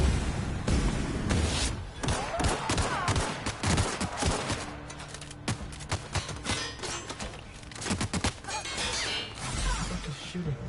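Gunfire in the first-person shooter The Outer Worlds, bursts of shots with thuds and impacts repeating through the stretch, with a voice talking in between.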